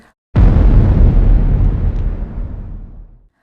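A loud, deep explosion sound effect bursts suddenly after a brief silence, its rumbling roar slowly fading away over about three seconds.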